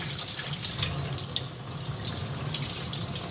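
A steady stream of cool water runs from a tap, a constant hiss and splash filling the whole moment with no voices.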